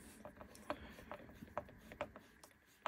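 Mounting clamps tightening onto an in-wall subwoofer, a series of faint, irregular ratcheting clicks and small mechanical snaps spaced across a few seconds, close but quiet.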